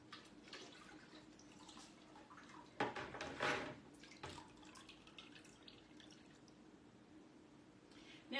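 Water dripping and splashing as a marbling tray is rinsed into a bucket, a faint trickle with a louder pouring burst in the middle, close and quiet otherwise.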